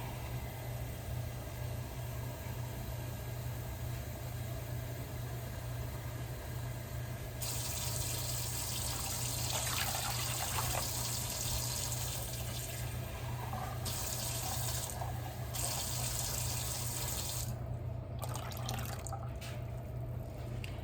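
Tap water runs steadily into a container for a white vinegar brine for pickled peppers, a continuous splashing pour lasting most of the stretch, loud and close with no talk.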